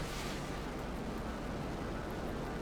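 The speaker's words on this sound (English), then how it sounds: "Second weapon, missiles." Batwing aircraft from Batman Arkham Origins firing missiles in a GTA 5 mod, heard as a loud, continuous broadband roar and rumble with no distinct separate blasts and no talking.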